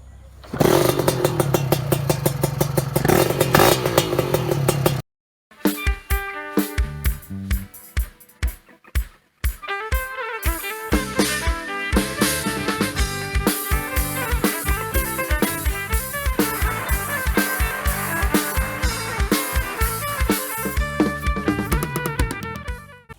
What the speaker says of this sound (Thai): ท่อที่เลือกใช้นะครับผมเป็น ท่อของน้าแดงสายสีนะครับผม